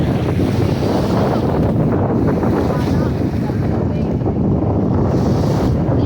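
Sea waves wash onto the shore at Bulusan in Bicol, a constant broadband roar heavily buffeted by strong wind across the microphone.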